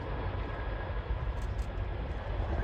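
A Chinook helicopter flies at the RIAT 2024 air show, giving a steady, loud, dense rotor and engine roar that fills the whole stretch without a break.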